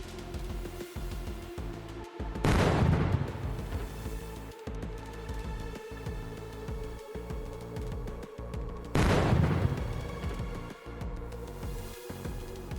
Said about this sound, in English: primary explosion tore through the hull like paper.